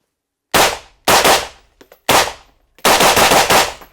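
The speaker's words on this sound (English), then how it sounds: "So this is a SIG M400 with the silent steel." Suppressed gunfire from a SIG M400 rifle fitted with a Silent Steel suppressor: four sharp, loud shots with short tails, then a fast string of rapid shots, with no talking.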